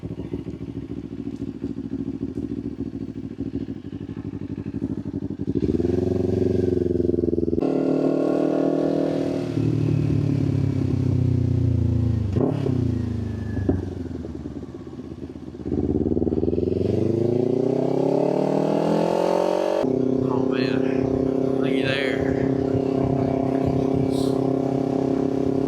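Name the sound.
motorcycle being ridden on a road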